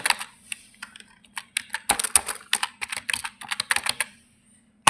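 Rapid clicks of typing on a computer keyboard, with uneven bursts of keystrokes close and clear, then a pause before a single firm key press for Enter at the end.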